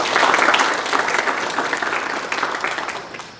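A hall full of people at a children's forum congress breaks into applause, a dense burst of clapping that stays loud, then thins and fades toward the end, with no talking over it.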